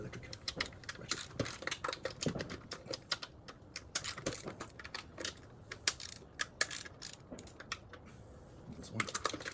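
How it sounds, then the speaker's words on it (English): An electric ratchet working on a Mercedes C250 M271 engine during PCV valve work, giving dense rapid clicking bursts that stop and start through the clip, close up and fairly loud. "then use the electric ratchet"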